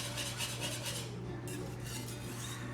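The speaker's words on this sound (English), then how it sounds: "I'm going to use a whisk to make sure that I don't have any bumps or lumps" A whisk beating batter in a bowl during a home cooking demo, quick rhythmic metallic scraping and clinking strokes against the bowl, faint and fairly close over a low steady hum.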